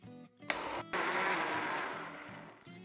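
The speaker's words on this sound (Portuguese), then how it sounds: "agora nós vamos bater aí a nossa abobrinha dentro do liquidificador por aproximadamente 3 minutinhos" A kitchen blender purees Italian zucchini for a risotto cream. After a brief start and stop, the motor settles into a loud steady whir that slowly eases toward the end, with a low hum before and after.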